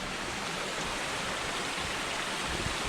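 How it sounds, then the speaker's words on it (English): Steady, broadband rushing water from a small waterfall pours continuously into an old tunnel, a close, even splashing flow like a small cascade. "Little waterfall going in."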